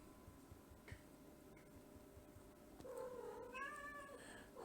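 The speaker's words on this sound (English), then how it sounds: "Mia is meowing." A pet cat named Mia meows a few times, thin and fairly faint, under low steady background noise indoors.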